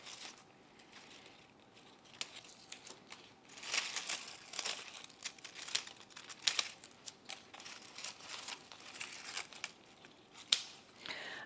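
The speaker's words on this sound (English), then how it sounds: "Just gonna cut some of the crispiness away here." Scissors snip and crunch through crispy dried leaves on a potted plant while brittle foliage crinkles and crackles, close-up in irregular bursts against a quiet room.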